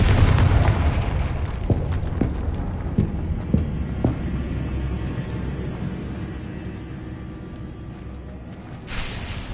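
A fiery Confringo spell blast in Hogwarts Legacy: a loud booming burst at the start, then a rumbling decay with scattered crackles and pops, and a faint swell near the end.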